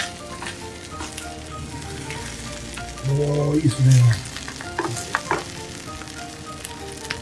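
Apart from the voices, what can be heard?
rice frying with green curry paste in Teflon pan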